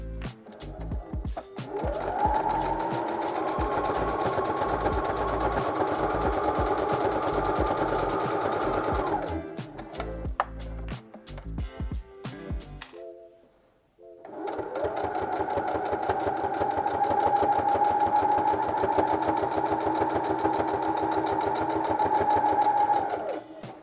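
A sewing machine stitching fabric scraps for a pillow runs in two long, steady bursts with a short pause between, loud and close, its motor whirring and needle chattering without talk.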